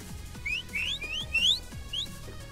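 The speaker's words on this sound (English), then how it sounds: "Everyone, spam whistle." Several players blow in-game whistles over and over in a Backrooms video game, producing a scatter of short, rising, chirpy tones overlapping one another above low game noise and muffled thumps.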